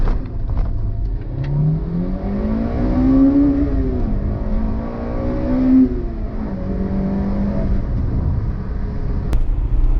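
A Honda Integra Type R engine revs hard toward high rpm, its howl climbing steadily, easing off and climbing again over a constant road roar heard from inside the car.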